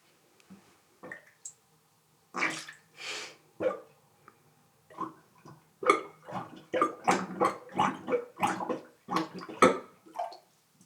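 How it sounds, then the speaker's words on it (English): Water gurgles through a freshly unclogged sink drain in close, irregular bursts of sloshing and bubbling, starting sparse and growing into a quick run of gulps. "I hear water running. I hear some water running."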